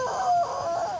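A party chicken toy at a beach shop on a private island gives a short, nasal squawk with a rising and falling pitch, close and clear, lasting about a second.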